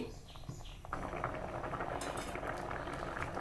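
Lentils with spinach bubble and boil steadily in a pot, a dense close simmering patter that swells after a quieter first second.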